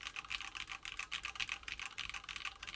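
Rapid, steady typing on a mechanical keyboard with undampened vintage black switches, close and clear, a dense run of clacky keystrokes with no talking.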